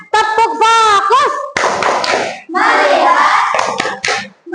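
A primary class in a classroom does a rhythmic clapping ice breaker, with short bursts of hand claps woven between children's loud chanted voices, near and lively.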